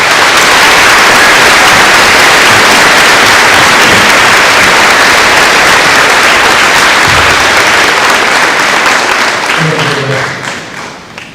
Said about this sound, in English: Please join me in giving Braylon a well-deserved round of applause.